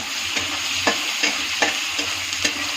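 Chopped onion and garlic frying in oil for egg bhaji, a steady close sizzle broken by periodic scraping strokes of a spoon stirring the pan, alone without talk.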